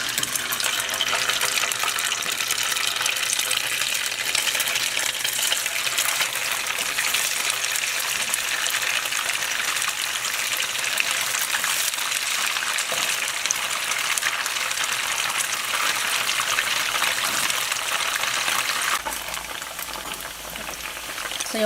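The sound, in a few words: tofu deep frying in hot oil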